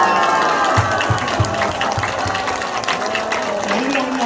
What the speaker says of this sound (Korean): 다시 한번 뜨겁게 박수하겠습니다.